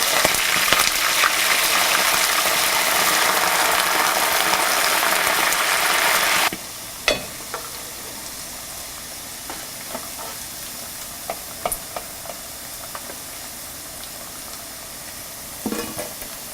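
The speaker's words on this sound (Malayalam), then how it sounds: "ആവശ്യത്തിന് എണ്ണ ഒഴിച്ച് ചൂടായതിന് ശേഷം വേവിച്ച് വെച്ചിരിക്കുന്ന ഡിയർ മീറ്റ് ഇട്ട് ഡീപ്പ് ഫ്രൈ ചെയ്തെടുക്കുക" Cooked deer meat deep-frying in hot oil in a frying pan gives a loud, dense sizzle that drops abruptly to a quieter crackle, with scattered sharp pops and clicks.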